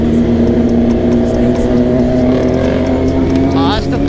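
Kawasaki Ninja 650 motorcycle with a full-system Austin Racing exhaust, loud and close, its steady throaty drone rising slightly in pitch, with other bikes riding alongside on a Delhi road and talk mixed in.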